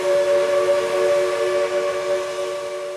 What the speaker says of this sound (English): So when you hear a steam whistle a mile away,